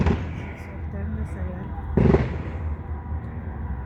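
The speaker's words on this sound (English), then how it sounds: "These are the boring fireworks." Fireworks going off outdoors, a loud burst near the middle over a steady rumble of crackling and popping, with people's voices mixed in.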